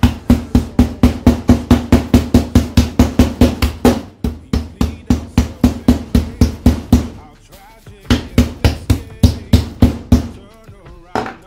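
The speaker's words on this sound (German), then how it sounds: "Deswegen werde ich jetzt mit dem Hammer weitermachen." Rapid, loud, close hammer blows crushing cookies on a hard surface, a fast regular pounding of about three strikes per second with a few short pauses.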